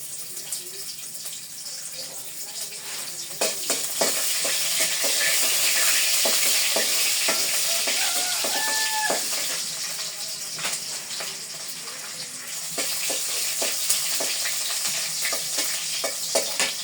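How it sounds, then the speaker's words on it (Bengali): Chopped onion frying in hot oil in a village kitchen, a steady close hiss and sizzle with scattered crackles and occasional stirring scrapes, lasting throughout with a faint voice in the background. "পেঁয়াজ কুচি দিয়ে দেই তেল দিয়ে দিলাম"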